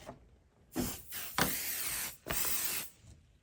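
Several short hissing bursts from an aerosol can of 505 adhesive spray, close up, with a longer spray in the middle and brief gaps between.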